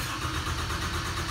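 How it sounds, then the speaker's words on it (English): An Advance SC8000 floor scrubber's motor runs after a key start, giving a steady, continuous mid-pitched engine hum at low RPM, close and even throughout with no speech. "So we have a basic key to start the motor up here,"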